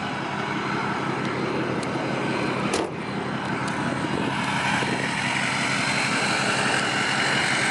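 A 2005 Ford F-250 6.0L diesel FX4 Lariat pickup with 230,000 miles idles nearby, giving a loud, steady, broadband engine drone that is unbroken and has no voices over it.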